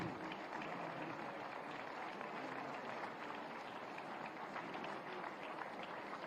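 Sustained audience applause welcomes Uttarakhand Chief Minister Dhami at a Swami Vivekananda tribute event, a dense, steady wash of many hands clapping that holds evenly from start to finish.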